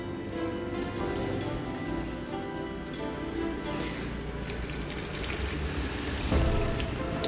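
Water gushes steadily from an opened tap into a small bucket outdoors in the early morning, a constant broadband splashing hiss that swells slightly louder near the end.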